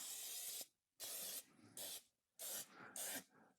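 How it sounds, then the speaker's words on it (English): Short bursts of olive oil spray mist onto chocolate sourdough in a proofing basket. There are four hissing sprays with brief pauses between them, close and crisp, with no talk. "I do lightly spray with an olive oil"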